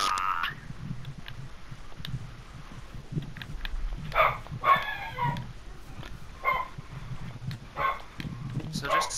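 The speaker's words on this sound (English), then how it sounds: "I gotta quiet down the dogs" Real dogs barking and yipping in a room, a few sharp barks scattered amid background noise and other sounds.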